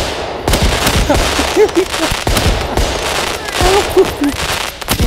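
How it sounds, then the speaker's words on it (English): Backyard fireworks set off during the Calgary Stampede: a series of sharp explosive bangs and crackles bursting across the whole span, loud and close, with whistling rising tones between blasts and some background voices. "Reviewy's gonna give you some fireworks here"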